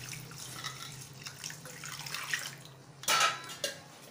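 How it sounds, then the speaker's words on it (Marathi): Rice is washed in water in a kitchen, with soft sloshing and swishing sounds and light clinks of a vessel, ending in a louder burst of pouring or splashing water near the close. "हे तांदूळ चांगले 4 ते 5 पाण्याने स्वच्छ धुवून घ्यायचे"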